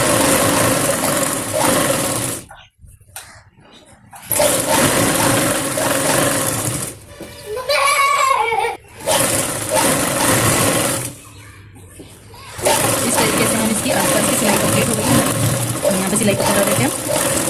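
A sewing machine stitches a small girl's palazzo in several long runs, its fast motor whir loud and close, broken by short pauses and one quieter gap with someone speaking.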